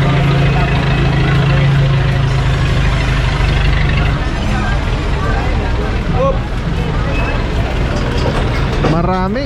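Several motorcycles idle together at a traffic stop, a steady low engine rumble with faint horn-like tones near the end and voices talking over it.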